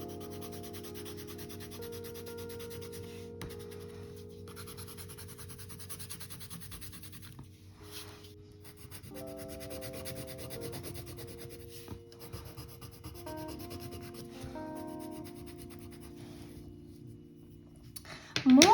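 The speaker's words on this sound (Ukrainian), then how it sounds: "Кладемо олівчик отак горизонтально до листочка і проходимо, щоб біленького в нас не було, зафарбовуємо." Coloured pencil held flat against paper, shading back and forth: soft, close, continuous scratchy rubbing strokes over a quiet background.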